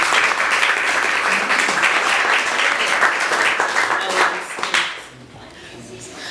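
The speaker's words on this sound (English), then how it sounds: "can we give a round of applause to" An audience at a speaker event claps in a dense, sustained burst of applause that fades out near the end, with some voices mixed in.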